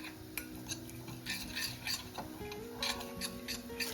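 Spices and honey are mixed for a momo coating, with quiet scraping and light clinks of a spoon against a bowl in an uneven stirring rhythm and a faint background hum.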